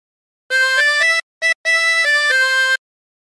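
A short phrase of the Battle Hymn of the Republic played on a 16-hole tremolo harmonica: bright, wavering reed tones in a few sustained notes with brief gaps, close and alone.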